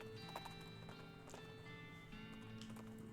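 Horse hooves clip-clop in West of Loathing as the player rides away, a quick rhythmic trotting over a busy, steady music backdrop.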